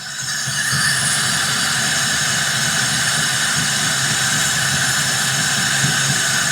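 A 1980 BMW 528i E12 on revival, running only on fuel left in the line, idles steadily and loudly nearby with a constant rumble and a hissy top end.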